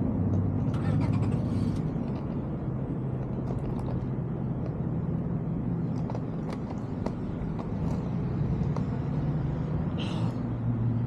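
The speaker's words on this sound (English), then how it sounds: "Too many cars in front of me." City street traffic in Philadelphia, heard from a rollerblader's position: a steady rumble of many cars passing nearby, with occasional sharper knocks and clatters over the continuous road noise.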